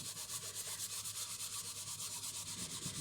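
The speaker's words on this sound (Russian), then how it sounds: "Просто берем губку и вот таким вот образом трем это дело." Sponge scrubbed back and forth across a surface during household cleaning, a steady rhythmic rubbing with even strokes, close and unbroken.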